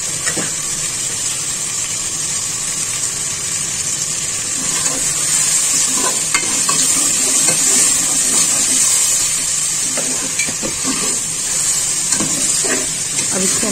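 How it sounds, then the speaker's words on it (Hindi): Cumin roasting in a pan along with spices for a desi chicken, spinach and potato curry, a steady hissing sizzle with faint stirring knocks running underneath a talking voice. "अब इसमें हमने डाला है जीरा और जीरे को भी हम इसी के साथ भूनेंगे।"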